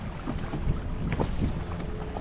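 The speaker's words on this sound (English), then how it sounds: "I'm on the windiest side of the lake right now" Strong wind buffets the shore of Center Lake in Iowa, a steady close roar with gusty rumbling across the whole stretch and no other clear sounds.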